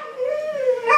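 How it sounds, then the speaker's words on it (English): A dog in another room gives a drawn-out, tonal whine or howl that rises slightly toward the end, clear and fairly close with no talking over it. "So you hear the other dog in there."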